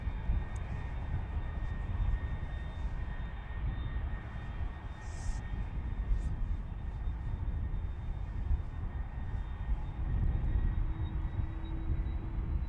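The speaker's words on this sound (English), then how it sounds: "The A330 that we saw in the background just now is already lined up." A Delta Airlines A330 lined up on the runway at Amsterdam Schiphol gives off a low, steady distant engine rumble with a faint whine, continuous and unbroken, with no talk.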